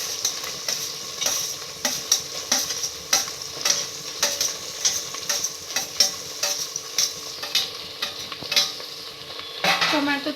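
Tomatoes frying in a pan for a paneer dish, a steady close sizzle under rhythmic scraping strokes of a spoon stirring, continuous and fairly loud, with no talking.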